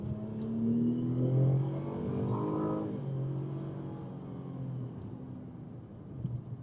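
A 2012 Dodge Avenger R/T accelerating in a roll from about 30 mph, with a steady engine drone and rising harmonics as it pulls, heard from inside the car, continuous with no talking.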